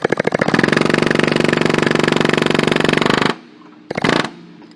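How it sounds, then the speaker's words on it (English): An impact hammer seats a Polaris Ranger front wheel bearing with loud, rapid mechanical hammering for about three seconds, then stops, followed by a quieter hum and one brief final burst. "I'm going to finish the install with my impact hammer."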